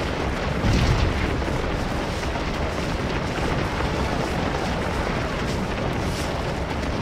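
Cannon fire rumbles across a Civil War battlefield in the Gettysburg strategy game Scourge of War, a dense, steady wash of distant artillery booms with one stronger burst near the start.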